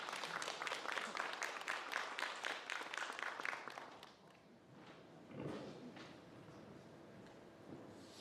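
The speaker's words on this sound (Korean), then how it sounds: "뜨거운 박수 부탁드립니다" An audience at a village education forum applauds as a school principal comes up to speak, with steady, dense clapping for about four seconds that quickly dies away into quiet room noise and a few soft thumps.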